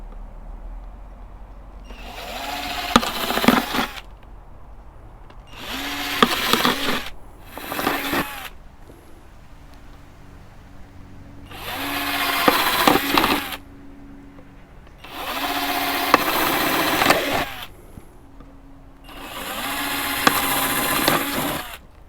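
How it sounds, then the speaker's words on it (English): A power drill bores holes into plastic bottles for garden drainage, heard as six separate bursts of loud motor whine, each lasting one to two seconds, with short quiet gaps between them and no talking. "And then I just go through these bottles and I drill them."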